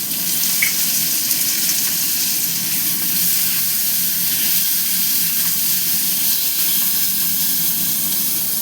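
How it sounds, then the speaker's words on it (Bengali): Chopped tomato hits onions frying in oil, making a loud, continuous close hiss and sizzle that stays even throughout, with no voices. "এটার মধ্যে আমি এই যে টমেটো কুচানো দিয়ে দিলাম।"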